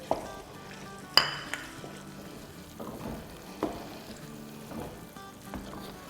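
Karachi halwa with chopped almonds roasting in a pan, a soft steady sizzle broken by a few sharp metallic clinks and scrapes of a spoon stirring against the pan.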